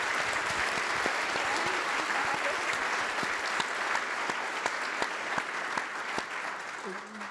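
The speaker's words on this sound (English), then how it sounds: "let's get one more round of applause for all of them and their bravery" A conference audience gives a sustained round of applause, a steady dense patter of many hands clapping at moderate volume that tapers off near the end.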